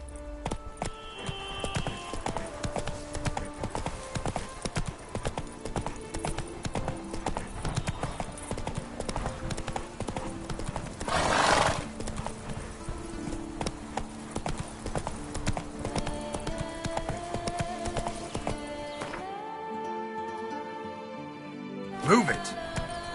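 Hoofbeats from Roach, the horse in The Witcher 3, pound in a steady, fast galloping rhythm under game music, with a short whinny-like burst partway through and the hooves slowing near the end.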